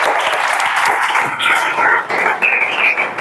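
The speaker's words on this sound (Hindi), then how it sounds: "भानु प्रताप के लिए जोरदार ताली मारा" A police recruitment coaching class applauds a student, Bhanu Pratap, with loud, continuous clapping that sounds slightly muffled, as if heard through a broadcast.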